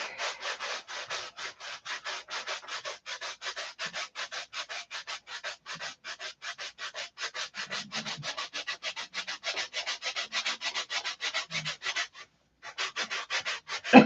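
Sandpaper glued to a fingertip rubs back and forth in quick, steady strokes, a dry scratchy rasp repeating evenly for many seconds, with one short pause near the end.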